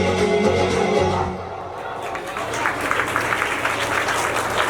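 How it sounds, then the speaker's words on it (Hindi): At a school Independence Day program, a speaker's voice and music give way to audience applause after a stage performance, clapping building and continuing loudly to the end. "इतनी शानदार प्रस्तुति के लिए जोरदार तालियां"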